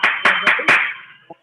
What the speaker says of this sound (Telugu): బిగ్ క్లాప్స్ అండి